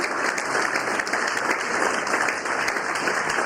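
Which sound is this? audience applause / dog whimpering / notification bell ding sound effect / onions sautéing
audience applause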